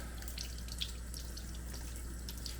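Water is splashed over the screen of a GSI coffee rocket to rinse it, making a faint, steady trickle with small splashes for a few seconds.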